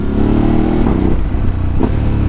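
A Ducati DesertX motorcycle engine drones loud and close on an off-road ride, its steady roar broken twice by brief dips as the quick shifter snaps through gear changes.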